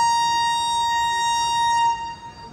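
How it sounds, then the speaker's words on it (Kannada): A vehicle horn blares in traffic during a journey from Varanasi toward Ayodhya, one long, loud, steady tonal blast held close by for nearly two seconds before cutting off into background rumble. "ಈ ಹಾರನ್ ಕಾಟ ತಪ್ಪಲಿಲ್ಲ ಗುರು"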